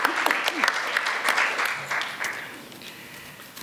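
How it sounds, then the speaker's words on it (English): Applause from a conference audience greets the panellists of a public health session, steady clapping with a voice briefly audible through it. "So please give a round of applause for our panellists."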